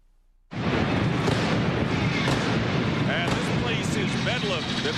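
Cannons blast inside the Delta Center basketball arena before Game 1 of the 1997 NBA Western Conference Finals, Rockets vs Jazz: a sudden loud boom after a brief quiet, then a sustained, roaring crowd and bedlam throughout.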